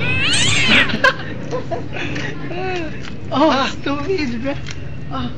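A cat yowls and caterwauls in drawn-out, wavering cries, several rising and falling calls close by, while people talk and chuckle over and between them.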